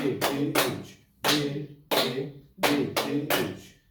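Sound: rhythmic group hand clapping in a laughter yoga session, 1-2, 1-2-3

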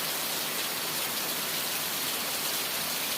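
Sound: rain

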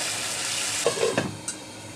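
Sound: water added to sizzling pan of taro stolons

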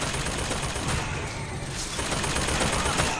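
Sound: machine gun fire in BioShock Infinite video game

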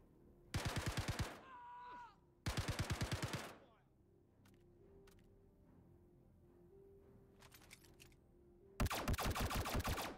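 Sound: gunfire in video game Star Citizen

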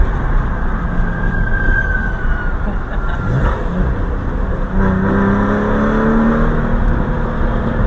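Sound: Porsche 911 engine revving

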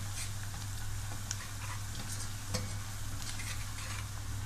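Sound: stirring dried coriander into frying onions

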